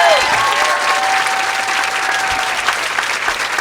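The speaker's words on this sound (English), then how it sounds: "Let's give another round of applause for Jenny Lawson." Loud, sustained applause from a bookstore event audience for author Jenny Lawson, a dense wash of many hands clapping evenly throughout with no talk over it.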